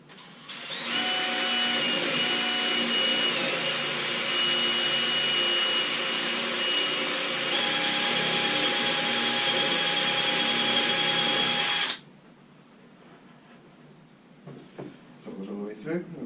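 A jigsaw cuts through a Stratocaster guitar body with a loud, steady, high-pitched whine for about eleven seconds, then stops, leaving quiet room sound with faint handling noises.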